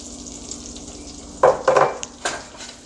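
Garlic sizzling in butter in a pan, a soft steady frying hiss with a few louder bursts of crackle as it is stirred, close and alone.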